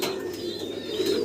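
Black Gold Archangel pigeons on a loft farm, a pair coo in a continuous low, close murmur lasting a little over a second with no talk.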